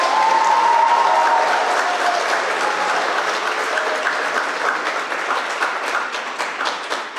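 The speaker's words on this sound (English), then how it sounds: "Graduates, please help me give them a loving round of applause for your parents." A graduation ceremony audience at a 12th grade commencement applauds steadily, a dense wash of many hands clapping that holds for several seconds and tapers slightly toward the end.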